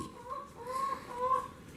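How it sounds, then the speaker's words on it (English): Chickens cluck softly in the background, a few hen calls rising and falling over steady ambient noise. "That's the chickens that you hear there in the background."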